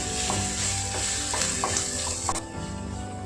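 Sliced onions sautéing in hot oil in a pan for an egg dry roast: a steady, loud sizzle runs throughout, broken by intermittent scraping stirs, with no voices.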